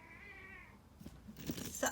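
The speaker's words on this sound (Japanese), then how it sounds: "おいにゃーっつってる子がいる。" A year-old cat playing with a cat toy gives a drawn-out meow, followed by rustling and a couple of louder, closer cries, all fairly faint against a quiet room.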